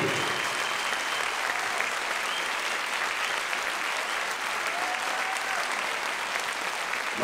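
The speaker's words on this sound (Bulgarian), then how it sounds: "нека чуем къде са вашите бурни аплодисменти за Клуб за народни хорали танци и моряците град Варна" An audience applauds at an anniversary concert of the Gaitan folk ensemble for the Varna folk dance club, a loud, dense, sustained roar of clapping that stays even throughout, with faint voices mixed in.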